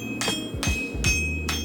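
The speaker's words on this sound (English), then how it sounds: "So here's the initial hammer strike setting the weld." Four sharp, evenly spaced hammer blows ring on hot metal pieces being forge welded together while a tomahawk is made at the forge, close and loud with a bright metallic ring, over a low rumbling background.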